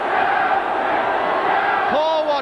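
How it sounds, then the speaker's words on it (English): Chelsea supporters roar after a goal against Watford in a 1970 FA Cup semi-final, a loud, dense crowd cheer sustained throughout, with a commentator's voice cutting in near the end. "there's the Chelsea crowd, at last something for them to cheer"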